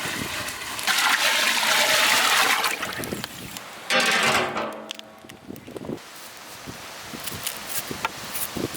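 Water splashes and gushes into a cooking pot on a stove, readied for boiling basmati rice for chicken vadi biryani; loud, steady pouring that stops, resumes briefly, then trails off into softer clatter.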